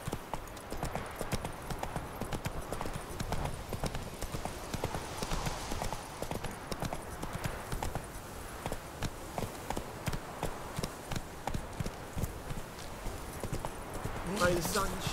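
Roach, a horse in The Witcher 3, gallops with steady, rhythmic hoof clip-clops close by, beats sustained throughout alongside ambient game sound and faint voices.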